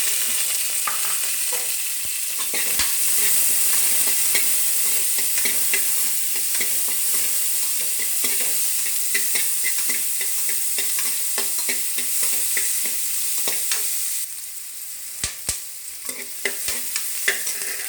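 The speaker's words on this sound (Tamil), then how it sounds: "அப்போ இந்த வெங்காயம் ஆட் பண்ணிக்கலாம்." Onions frying in a pan for a brinjal and tomato curry, a steady close sizzle with scraping stir strokes running throughout and a few sharp spoon taps near the end.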